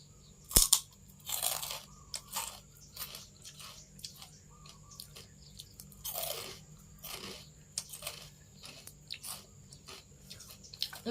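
Crisp pork cracklings crunched between the teeth in close, quiet bites, with a few sharp crackles followed by softer chewing at irregular intervals.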